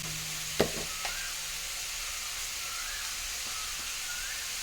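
Eggplant pieces fry in a pan with a soft, steady sizzle, broken early by a couple of sharp clinks as a spoon stirs them; a close, quiet kitchen sound with no voices.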